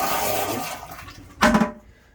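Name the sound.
Headhunter Royal Flush porcelain RV toilet flushing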